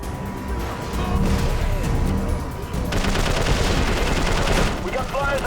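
Heavy gunfire in the video game Prototype 2, with dense bursts of rapid automatic fire and crashing impacts sounding continuously and loudly for several seconds, with some faint voices mixed in.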